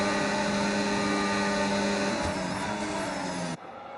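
Formula 1 cars in a racing game at Monza howl at high revs through Parabolica, a loud continuous engine whine that shifts pitch and drops away sharply near the end.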